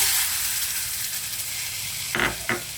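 Beetroot juice poured onto roasted semolina in a hot pan for ravva laddu, with a steady steamy hiss followed by two sharp sizzling bursts near the end, close and fairly loud with no voices.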